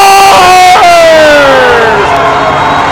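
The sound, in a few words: ice hockey crowd cheering after a goal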